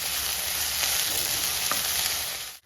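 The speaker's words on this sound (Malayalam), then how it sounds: "നമ്മൾ അരിഞ്ഞു വെച്ചിരിക്കുന്ന വെണ്ടയ്ക്കയും സവോളയും കൂടെ ഉള്ളത് ഇട്ട് കൊടുക്കാം ഇത് നന്നായിട്ടൊന്ന് വാടി വരണം" Chopped okra and onion frying in a pan in a Kerala-style dish, a steady loud sizzle with faint stirring scrapes, continuous and close, ending abruptly.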